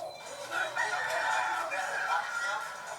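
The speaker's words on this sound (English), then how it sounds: "This bus has a chicken in it." A chicken crows and clucks inside a crowded passenger bus, a strained, close call rising over the hum of the vehicle, with faint voices underneath.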